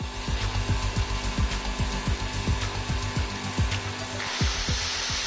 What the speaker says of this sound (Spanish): Vamos a conectar este taladro.